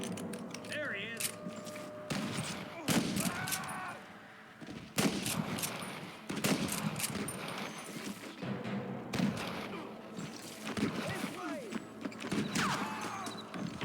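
Gunfire in the video game Red Dead Redemption, bursts of sharp shots in repeated clusters with short gaps, some ringing and echoing, mid-loud throughout, with a few faint voices between volleys.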